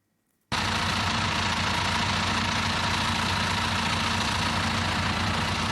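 A tractor sowing malting barley with a seed drill in a field, its engine cutting in suddenly and then running loud and steady at close range with nobody talking.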